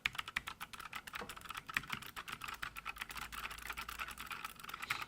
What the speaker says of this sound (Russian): Ощущение от тайпинга очень прикольный, но сам звук неприятный и резкий.